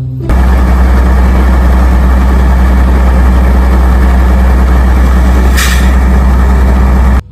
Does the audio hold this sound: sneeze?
no